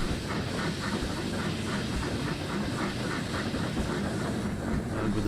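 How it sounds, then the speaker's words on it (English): A heavily loaded model freight train hauled by two Dapol B4 model locomotives runs steadily on a dockside layout, giving a continuous close rumble with rhythmic clicking from the wheels over the track joints. "To take the train out and away from the dockside railway, 2 Dapol B4s have been entrusted with the heavily loaded train."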